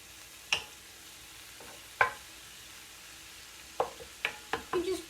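A spoon breaks up taco pasta mixture frying in a pan on a stovetop, giving a few sharp scraping taps over a faint sizzle, sparse at first and then quicker toward the end.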